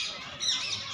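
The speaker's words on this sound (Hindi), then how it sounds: "ये देखिए इस जाले के अंदर कितने सारे तोते हैं।" Parrots inside a netted zoo aviary give bright, brief chirps and squawks, several birds calling over one another at moderate distance.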